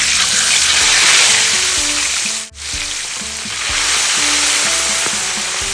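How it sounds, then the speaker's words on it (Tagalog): Tilapia frying in hot oil, a loud, dense sizzle and crackle that runs steadily, dips briefly to near-silence midway, then resumes just as strongly. "start na ako magprito."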